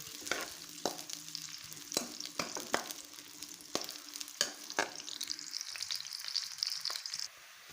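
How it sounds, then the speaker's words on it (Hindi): Chopped onion sautéing in a pan for aloo matar, a steady close sizzle punctuated by sharp scraping stirs of a spoon against the pan, with no voices. "उसके बाद हम इसके अंदर ऐड करेंगे 1 अदद प्याज काटा हुआ, ये ऐड कर देंगे और इसकी थोड़ी भुनाई कर लेंगे प्याज की।"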